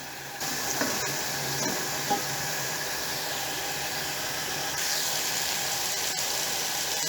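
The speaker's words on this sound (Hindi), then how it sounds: "इसको आप इतना भूनेंगे कि दही जो है उसका पानी थोड़ा सा ड्राई हो जाए" Mutton korma frying with yogurt in oil gives off a loud, steady sizzle that runs unbroken throughout, with a faint stir or clink now and then and no voices.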